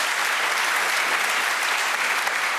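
Loud, dense applause from a studio audience on an Albanian television show, a steady roar of clapping filling the short moment without a break.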